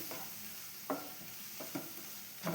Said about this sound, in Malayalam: അത് പച്ചമണെല്ലാം മാറുന്നവരെ നമുക്കൊന്ന് വഴറ്റിയെടുക്കാം